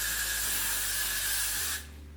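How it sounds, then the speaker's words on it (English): Got2b hairspray hissing steadily from a can onto styled hair in one continuous close burst, then cutting off sharply near the end, with no talking. "what I'm going to use is my Got To Be spray just to freeze the hair in place"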